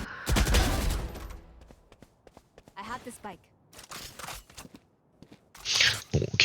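Gunfire in the shooter video game Valorant: a loud burst of rapid shots at the start and another at the end, with sparser clicks, steps and talk in between.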